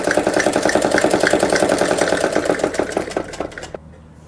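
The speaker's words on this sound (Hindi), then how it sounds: "तो अब यहाँ पर सिलाई लगा देंगे।" A sewing machine stitches a girl's salwar in rapid, even mechanical pulses, loud and close, slowing and stopping just before the end.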